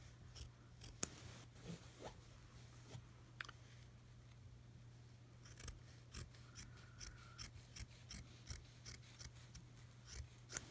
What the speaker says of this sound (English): So I'm just gonna cut all the way down.